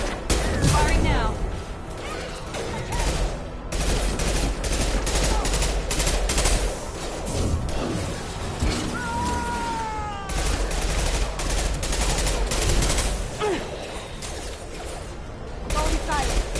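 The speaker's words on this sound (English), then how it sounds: "Firing now." Rapid gunfire from the video game Mass Effect 2 crackles in dense bursts during combat, loud and continuous, with game voices calling out over the shooting.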